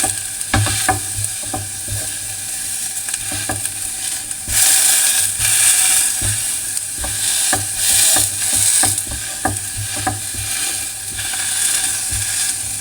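A metal ladle repeatedly presses and scrapes through fried eggplant in a pot, giving soft squishy mashing sounds with sharp clinks against the pot in an uneven rhythm, close and fairly loud with no talking.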